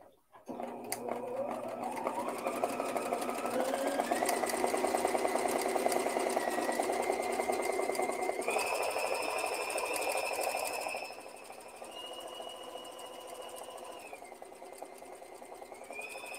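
A sewing machine running steadily through free-motion embroidery on a shirt collar, with a fast even whirring hum close up that shifts in pitch and drops to a quieter, slower run near the end.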